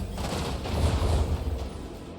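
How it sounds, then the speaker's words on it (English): Torpedoes launch in Warhammer 40,000: Rogue Trader with a dense, rumbling burst of low booms and rushing noise, loud and sustained for about two seconds. "Torpedoes away!"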